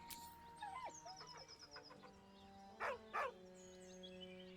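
In Baldur's Gate 3, Scratch the dog lets out soft, short whines and yips, with a louder pair of whimpering cries near the end over a quiet ambient game soundtrack.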